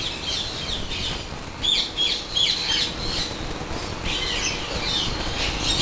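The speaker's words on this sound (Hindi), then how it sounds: "ये वही लोरी है, ये स्विंसन लोरी है और रेडी टू ब्रीड बड़ा पेयर है इसका।" A breeding pair of Swainson's lorikeets in an aviary giving repeated harsh, shrill squawks in bursts, fairly close, with light rustling between calls.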